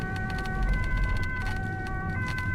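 A Dutch emergency vehicle siren wails steadily, with sustained tonal notes held over low road rumble throughout, fairly loud and close, no voices.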